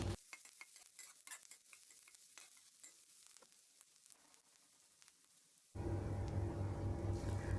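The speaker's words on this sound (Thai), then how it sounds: "เอาหอมหัวใหญ่ลงไปผัดก่อนค่ะ" Onions stir-fried in oil in a pan for Thai rad na gravy: first quiet spatula scrapes and clinks, then a sudden loud, steady sizzle as the onions hit the hot oil and keep crackling.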